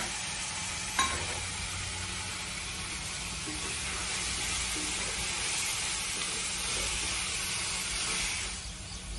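Onion cooks with salt in a pan, a steady close sizzle that holds at an even level throughout, with a brief knock near the start and no talk.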